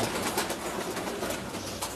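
Pigeons in a racing-pigeon loft coo softly, the murmuring calls blending into a dense, steady bed of background noise.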